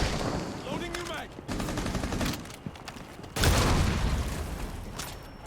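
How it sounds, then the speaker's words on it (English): Rapid automatic gunfire and bursts ring out in a Rainbow Six match, dense and loud with overlapping shots, heavy clatter and booms, while game sounds and chatter mix underneath. "Loading new mag."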